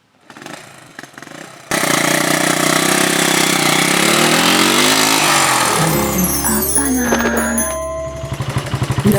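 A 1973 Honda CBS 125 motorcycle, an original unmodified model, starts up and runs steadily, its engine revving and rising in pitch before settling into a rough, pulsing idle, loud and close.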